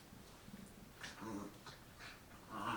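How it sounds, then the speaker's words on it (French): Dogs playing indoors whimper and whine in short bursts, with soft panting and yips between, close by and fairly quiet. "ils sont en train de jouer les chiens"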